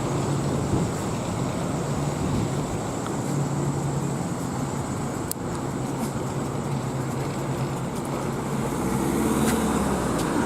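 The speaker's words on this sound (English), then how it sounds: "Alright, look at the traffic." Busy town road in Ashton-in-Makerfield, England, with a continuous wash of passing cars and heavier vehicles, a steady roar of engine and tyre noise close by and growing slightly louder toward the end.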